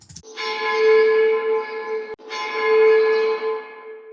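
Two bell sample strikes processed with echo, stereo width and reverb, each a clear ringing clang with a long shimmering sustain, the second following closely after a brief cut.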